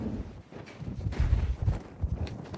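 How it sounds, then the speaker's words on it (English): Strong wind blows across a field in the Utah desert, buffeting the microphone in uneven low rumbling gusts, with faint thuds of horses moving nearby. "And it is super windy."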